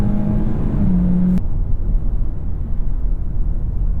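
A 2021 Hyundai Elantra engine in S mode holds a steady tonal drone, dips slightly, then drops away into a loud, continuous rumble of road and cabin noise.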